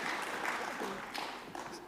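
Conference audience clapping at a party annual conference, a brief, fairly faint spatter of applause with a voice mixed in.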